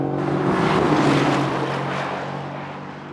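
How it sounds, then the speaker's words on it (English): Mercedes-AMG car engine droning while driving, a loud, rich tone that swells then eases off over a few seconds, heard alone without talk. "And just listen to the sound of the engine. It's absolutely gorgeous."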